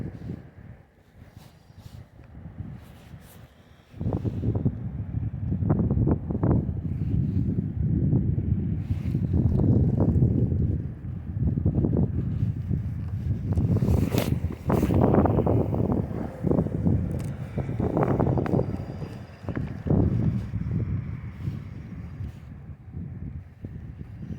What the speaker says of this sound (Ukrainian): холодно, дме вітер